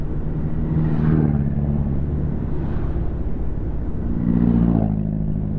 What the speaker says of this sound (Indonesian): suara truk-truk. Nah itu truk-truk dari Banjar itu.